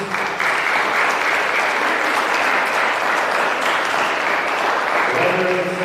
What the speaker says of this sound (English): could we also give a big round of applause to all of the parents and the families?